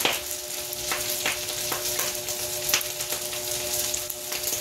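Garlic fried rice crackles and sizzles steadily in a pan, with periodic scraping stir strokes of a utensil every second or so, close and alone without talk.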